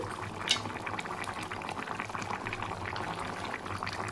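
Tangy, spicy dam-fish curry simmers in a pot with a continuous soft bubbling and gurgling, close and fairly quiet, with no talk over it.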